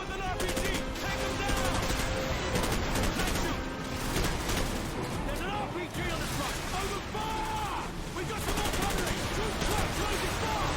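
Gunfire in Call of Duty 4: Modern Warfare, dense bursts of automatic rifle fire and shots that run almost nonstop and loud, with a player's voice talking over the combat.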